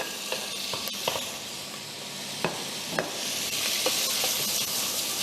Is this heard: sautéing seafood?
yes